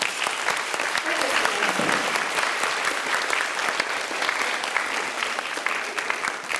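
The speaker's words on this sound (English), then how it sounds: "So let's give these people a round of applause." Audience at a high school graduation ceremony gives a round of applause, a thick, continuous clatter of many hands from a large crowd, steady and loud throughout, with faint voices mixed in.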